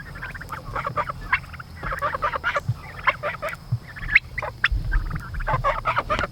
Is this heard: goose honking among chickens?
yes